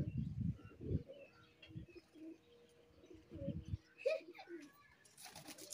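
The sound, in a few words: pigeon cooing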